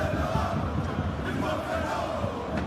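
A stadium crowd roars and murmurs in an eFootball 2021 match between Bayern München and PSG, a dense, continuous cheering wash with commentary speech mixed in.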